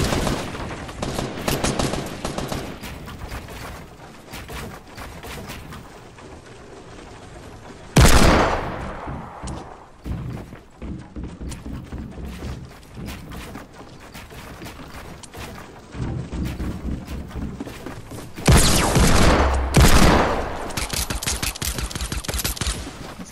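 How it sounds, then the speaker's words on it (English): Fortnite gunfire crackles in rapid volleys of sharp shots, with dense bursts at the start and louder blasts around the middle and end, mixed with clicks and mechanical handling sounds between the shooting. "This guy's shooting me in the back"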